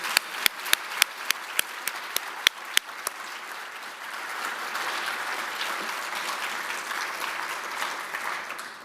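Applause from a luncheon audience at an annual fall charity event, opening with a few sharp, scattered claps and swelling into steady, full clapping across the room that carries on without any talk.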